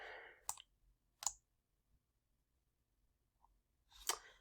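Three or four sharp computer mouse clicks ring out at irregular intervals in a quiet room, crisp and close, with near silence between them.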